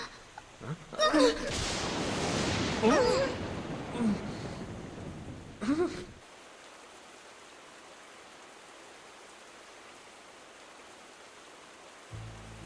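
Heavy rain and a rumbling thunderstorm swell loudly for about six seconds with crackling bursts, then fall away to a faint steady hiss of distant rain.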